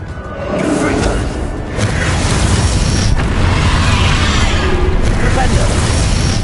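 A Confringo spell blast erupts in Hogwarts Legacy, loud booming bursts with whooshing rushes and crackling debris that swell and recur over a sustained roar, with a voice speaking over it.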